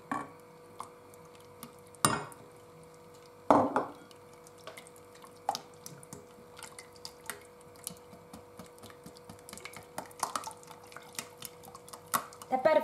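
Eggs stirred into a warm mixture for honey cake layers, giving faint scraping and clinking with a couple of louder knocks against the bowl, some quiet dripping and a little talk.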